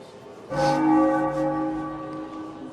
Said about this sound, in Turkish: Çan çalıyor, hiçbir saygınız yok